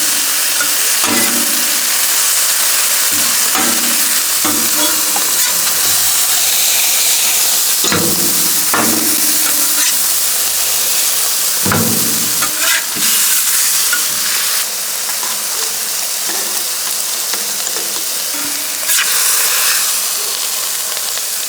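Cheesesteak meat frying in beef tallow on a Blackstone griddle gives a loud, steady sizzle and hiss, with occasional scraping and stirring clatter from a spatula, close up and without talk.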